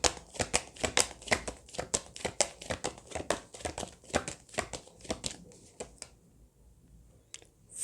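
Tarot cards shuffled and drawn by hand, a rapid series of crisp, close papery flicks and snaps, steady for about six seconds, then a pause and a final flick.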